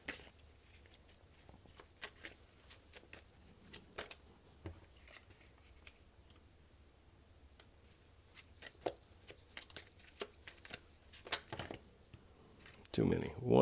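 Tarot cards being shuffled in quiet, faint rustling flurries and soft slaps of card on card, irregular and close, with a louder handling noise near the end.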